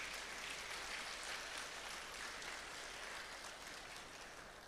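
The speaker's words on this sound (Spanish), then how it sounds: "Recibamos con un fuerte aplauso" A church congregation applauding to welcome a singing group at a special service, a faint, continuous, even patter of many hands clapping from a distance.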